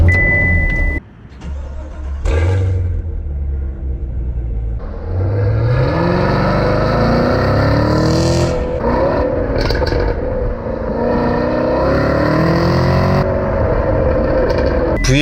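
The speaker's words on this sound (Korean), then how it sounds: "V8 엔진 특유의 팡 터지는 듯한 그런 배기음을 내면서 엔진은 깨어나고요." A Chevrolet The New Camaro SS with a 453-horsepower naturally aspirated V8 cranks and fires with a sharp bark, then settles into a loud, deep, rumbling idle with occasional revs, close by and with no talk.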